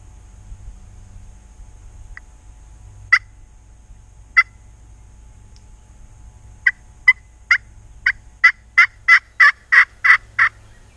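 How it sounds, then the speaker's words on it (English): Wild turkey gobbling on public land in spring, a few isolated gobbles at first, then a quick rhythmic run of about a dozen gobbles, moderately near over a quiet low rumble. "Their gobbles are pretty close."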